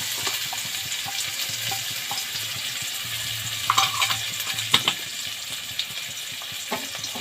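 Chopped onions frying in a pan for palak paneer, a steady hiss of oil with occasional louder clatters and scrapes from a spatula stirring, heard up close with no one speaking.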